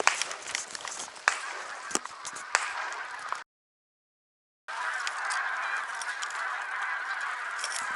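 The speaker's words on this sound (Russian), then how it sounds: "В жизни столько гусей не видел вместе." A large flock of geese honks continuously on an autumn hunting trip in Yakutia, many calls overlapping at a moderate distance, briefly cut to silence midway before the honking resumes.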